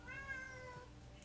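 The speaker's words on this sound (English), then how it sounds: "I'm sorry about my cat." A pet cat meows once, a drawn-out, close cry that rises and then fades over about a second, heard alone in a quiet room.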